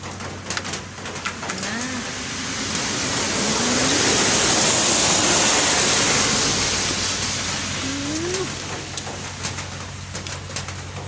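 Steady broadband rain hiss on a rainy afternoon, swelling louder through the middle, with a few soft bird coos rising over it and no voices.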